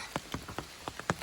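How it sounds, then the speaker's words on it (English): Rain falling steadily on the Appalachian Trail, with distinct drops tapping nearby at an irregular pace over a soft wash of background patter. "It's raining on Irwin Day."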